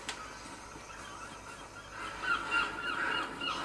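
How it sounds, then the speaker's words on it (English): Faint, distant seagull calls drift over a quiet coastal ambience in the video game Dead Island, growing slightly more noticeable toward the end. "You can even hear seagulls."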